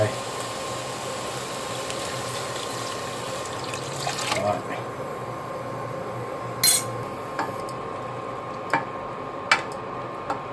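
Water is poured steadily into a pot of Isan-style pork curry (gaeng om moo) with dill, giving a continuous close rush with a few light clinks of utensils toward the end.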